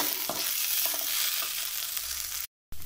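Okra fried with onions in a pan over medium flame, a steady close sizzle with light stirring scrapes throughout, cutting off briefly near the end.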